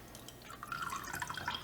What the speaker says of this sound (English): strain it into the glass.